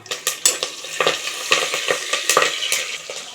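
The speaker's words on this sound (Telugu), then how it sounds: "ఇది వేగిపోతున్నాయి కదా ఇప్పుడు ఇందులోకి మనం పచ్చిమిర్చి వేద్దాం పచ్చిమిర్చి అలాగే కొద్దిగా కరివేపాకు వేద్దాం" Green chilies and curry leaves fry in hot oil in a pan, a close sizzle broken by rhythmic scraping strokes of a spoon against the metal, no speech.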